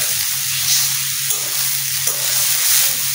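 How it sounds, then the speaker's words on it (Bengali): Drained rice stirred and fried with soya chunks in a pan for biryani: a steady hiss of sizzling oil with a few scraping stirs of a spoon, close and continuous. "এখন ভালো করে সয়াবিনের সাথে চালগুলো মিশিয়ে দিতে হবে।"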